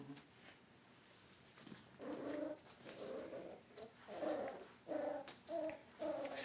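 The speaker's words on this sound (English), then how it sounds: "That's a good bark." A six-week-old puppy gives a series of short, high yips and barks mixed with whimpering, repeating in quick bursts at close range.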